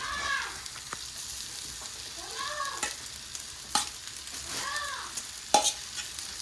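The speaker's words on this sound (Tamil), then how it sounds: "இப்போ நான் இதெல்லா ரைஸையும் இதுக்குள்ள இப்போ சேர்க்கிறேன்" Cooked rice tipped into a sizzling tomato masala for tomato rice and stirred, a quiet frying hiss broken by scraping sweeps of the spoon and several sharp clanks against the pan.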